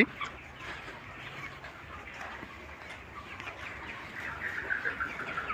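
Chickens in a rooftop poultry farm shed holding about 3000 birds cluck faintly and continuously at a distance, a low murmur of many birds that grows slightly busier toward the end.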